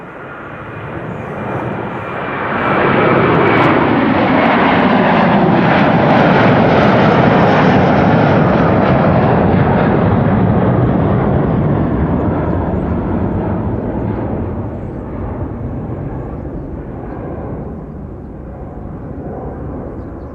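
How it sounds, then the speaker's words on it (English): A 22-year-old Delta Airbus A330-300 jet, first flown in 2004, at Amsterdam Schiphol Airport, roars in a broad continuous engine rumble that swells as it passes close, peaks, then slowly fades into the distance. "here is the Delta to Tampa in Florida, flight 237, an A330-300."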